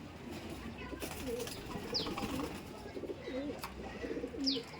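Domestic pigeons cooing repeatedly at close range, low rolling coos recurring every second or so over faint background noise, with a couple of brief higher chirps.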